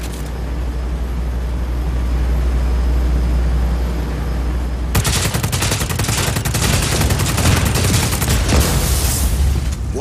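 Loud, dense gunfire in Just Cause 4 as a player blasts at an enemy generator: a steady low rumble gives way halfway through to rapid, continuous bursts of shots with booming impacts.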